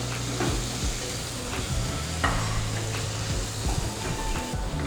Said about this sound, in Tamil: மட்டன் போட்டு லைட்டாக வதக்கினதுக்கப்புறம்